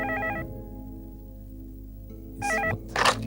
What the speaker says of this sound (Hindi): तो फोन करो ना।